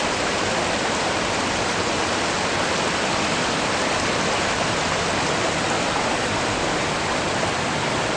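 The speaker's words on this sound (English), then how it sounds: "Mud Creek, which has overflowed its banks" Flooded Mud Creek in New Hartford, New York, running about four feet above its normal eight-inch depth, rushes over its banks in a loud, continuous roar of churning water that holds steady throughout.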